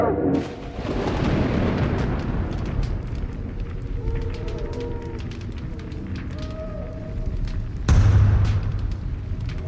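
Deep, rumbling booms of siege explosions pound at a city gate in the Age of Mythology Retold video game, a continuous heavy roar with a sharper loud blast near the end.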